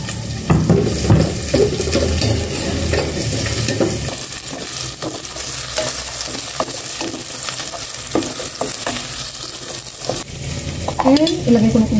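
Garlic and onion sauté in a hot smoking pan, a loud steady sizzle with scraping stirs throughout, the frying dense early and continuing with clinks of a utensil near the end.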